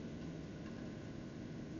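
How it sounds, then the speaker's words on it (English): A steady, low mechanical hum and airy whoosh of an air conditioner and dehumidifier running fills the background, constant and fairly faint, with no talking. "the air conditioner and dehumidifier keep kicking on"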